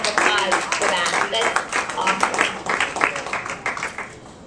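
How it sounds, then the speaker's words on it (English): Participants at an ALS charity walk kickoff clap together, a close, lively burst of many hands with distinct individual claps audible, gradually thinning out and fading toward the end. "So give yourselves a huge round of applause for that."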